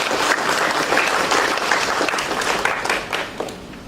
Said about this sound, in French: notre très cher parent, M. Samuel Faye, sous vos applaudissements